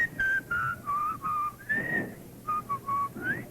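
A man whistles a tune alone in clear, close, melodic phrases broken by short breaths.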